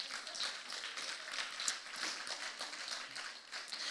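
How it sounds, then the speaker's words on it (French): An audience in a church applauds with soft, dense, continuous clapping that sounds somewhat distant and steady throughout. "j'ai commencé à entendre des applaudissements"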